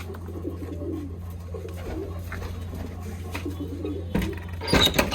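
Soft pigeon coos repeat over a steady low hum, with a brief louder rustle or flutter near the end.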